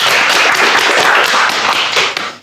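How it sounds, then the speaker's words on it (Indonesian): Dense, steady clapping from an audience at a student event introducing the Faculty of Islamic Religion's executive student board, loud and continuous for a couple of seconds before tapering off. "Tepuk tangan."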